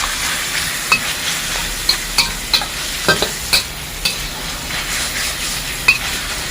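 Ground pork stir-frying in a pan, a steady crackling sizzle with repeated sharp scrapes and clacks of a spatula stirring at irregular intervals, close and moderately loud, no talking.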